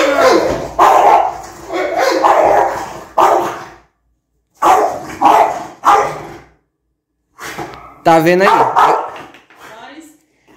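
A French Bulldog barks in short, loud bursts, several in a row with gaps between, while a person speaks briefly.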